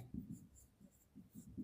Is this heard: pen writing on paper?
yes